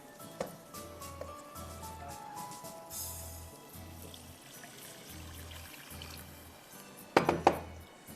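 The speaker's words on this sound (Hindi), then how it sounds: "एक कप पानी डाल लीजिए।" One cup of water poured into a pan for a chicken and oats dish, a steady pour over a low rhythmic hum, ending with a couple of sharp clinks of utensils against the pan.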